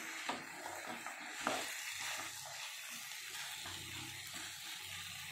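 A brinjal and green peas curry is stirred in a pan on a low flame, a spoon scraping and clacking through the thick mixture in a few sharp strokes over a soft, steady sizzle, with no talking.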